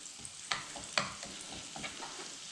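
Garlic cooks in butter in a hot pan, giving a soft, steady sizzle with a couple of sharp utensil clicks against the pan, faint but close.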